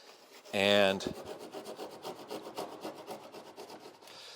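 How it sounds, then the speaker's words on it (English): A tapered Japanese boat-building saw rasps back and forth through wood in steady repeated strokes, close and fairly loud, with a single spoken word at the start. "the Japanese boat building saw ends with a taper, is that you can work it into little spots like that and just kind of taper this cut"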